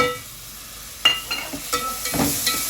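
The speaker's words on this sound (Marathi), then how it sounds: "आता हा गॅस स्लो करायचा. त्याला चांगलं भाजून घ्यायचं. हा मसाला चांगला भाजायचा" Masala with tomato puree fries in a pan for chicken biryani, a close sizzling hiss that starts soft and swells, broken by several sharp stirring scrapes near the end, no talking.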